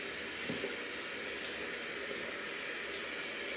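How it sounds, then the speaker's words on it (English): A shaving brush rinsed under a running tap, heard as a steady, faint hiss of flowing water throughout with no speech. "I'll rinse my brush out."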